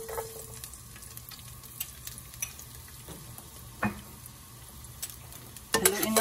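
Garlic sizzling in hot oil in a pan, a soft steady frying hiss with a few light utensil taps and a louder clatter near the end, no talking.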